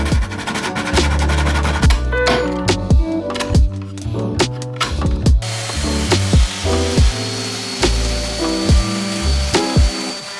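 A pull saw cuts through wood in steady rhythmic strokes, close and loud, with each pass rasping clearly and a few brief pauses between runs.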